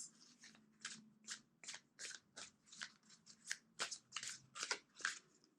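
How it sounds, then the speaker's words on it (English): Soft, close tarot card shuffling in a steady run of brisk flicks and slides, quiet overall, with no voices. "Two more shuffles."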